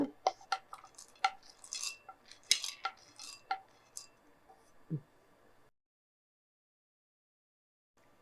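Sesame seeds and peanuts dry roasting together in a pan, heard as scattered light clinks, taps and rattles of stirring against metal for several seconds, then falling silent.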